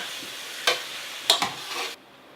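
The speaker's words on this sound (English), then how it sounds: "So what you're looking for is some good browning on all sides of the beef." Beef browning in a pot for beef, brown rice and mushroom soup, a soft sizzle broken by a few sharp scraping stirs, close and brief, then cutting off.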